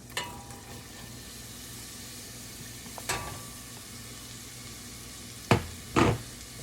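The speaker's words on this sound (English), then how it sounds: "we're going to sweat them out nicely" Diced celery and onions sweating in a skillet for scallop and bacon chowder, a soft steady sizzle with a few sharp clacks of a utensil, faint and close, with no talking.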